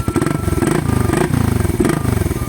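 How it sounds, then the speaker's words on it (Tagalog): A Suzuki Raider motorcycle engine with its catalytic converter fitted revs close up with a loud, throbbing exhaust beat, rising and falling in pulses through the whole stretch. "Ganito ang tunog pa kapag may katalitik mga boss."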